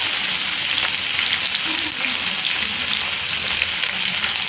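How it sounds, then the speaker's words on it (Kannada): Chopped green chillies sizzling in hot oil, a continuous loud, close frying hiss with fine crackles that stays even from start to finish, with no talking. "ನಂತರ 3 ಹಸಿಮೆಣ್ಸಿನ್ಕಾಯಿ ಕಟ್ ಮಾಡಿ ಹಾಕೊಳ್ಳಿ. ಹಾಗೆ ಹಾಕ್ಕೊಂಡ್ರೆ ಈ ಥರ ಸಿರಿಯುತ್ತೆ."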